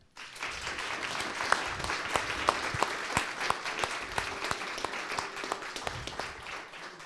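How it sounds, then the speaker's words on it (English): Audience at an airflow talk applauding, a moderately distant patter of many hands with scattered louder claps standing out, continuous for around seven seconds. "one more round of applause"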